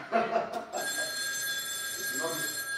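An electronic telephone ringtone starts after a brief voice and keeps ringing steadily and fairly loud, with a person speaking over it near the end.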